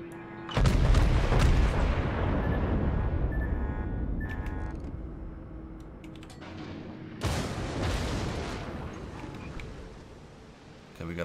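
Front guns of the Iowa battleship fire in World of Warships as two heavy booming salvos a few seconds apart, each with a long rumbling decay.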